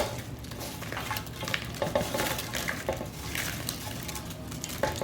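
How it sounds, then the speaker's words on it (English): Bread stuffing pieces tipped into a bowl, a continuous soft rustling and patter of dry crumbs and chunks landing, with a few light knocks against the bowl and no talking. "let's go ahead and just get these stuffing or bread pieces in our bowl"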